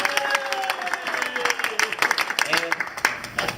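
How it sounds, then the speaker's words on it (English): An audience claps and cheers for a magician at a lunchtime show, a dense patter of many hands with crowd noise, building and staying loud to the end. "Let's give a big round of applause for the magnificent Dick"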